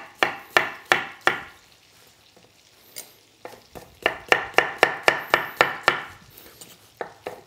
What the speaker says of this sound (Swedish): Och sen så skivar jag bara så här. Ganska stora bitar va?